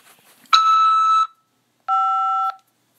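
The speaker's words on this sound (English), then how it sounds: "After the beep, press 5 to accept this call." On a prison phone call, two electronic beep tones sound in sequence. The first is a bright sustained tone and the second is lower and slightly pulsing, each about half a second long, with silence around them.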